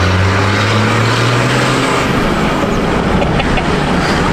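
Nissan Patrol diesel inline-six engine running, a loud steady droning rumble with low throbbing tones, heard up close and continuous with no talk.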